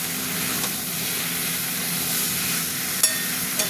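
Tomato paste ground with ginger, garlic and spices fries in a pan, giving a soft continuous sizzle and hiss with a couple of faint clicks and no talking.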